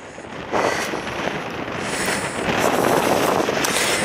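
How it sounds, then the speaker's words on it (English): Wind gusts outdoors on a walk near Cheddar Gorge, a broad rushing roar buffeting the microphone in rising and falling surges, with no talking. "I'm just going to let you hear the wind"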